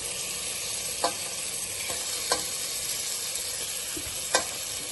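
Chicken pieces frying with garam masala and chicken masala in a pan, a steady close sizzle broken by a few sharp scrapes of stirring.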